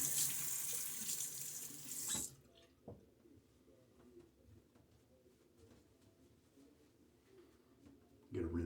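A tap gushes loudly into a sink for a couple of seconds as a razor is rinsed mid-shave, then cuts off, leaving quiet room noise with a small knock, before water briefly runs again at the very end.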